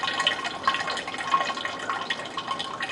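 Activated yeast dissolved in cool water is poured into a wine carboy for wineberry wine, a soft, steady trickle and splash of liquid heard close up.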